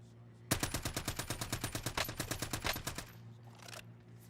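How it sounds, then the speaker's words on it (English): A steady burst of rapid automatic gunfire in a first-person shooter game, about two dozen evenly spaced loud shots over roughly two and a half seconds, then a faint trailing noise. "this shooting is terrible"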